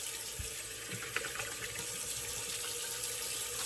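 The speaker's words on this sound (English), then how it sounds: "Get rinsed off real quick." Tap water runs steadily into a sink while rinsing off after a razor shave, a continuous close splashing gush with no talk.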